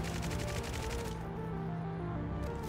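Rapid gunfire in a Fortnite live event as players shoot at a giant mothership, a dense continuous fusillade of shots with steady loud bursts and no talking.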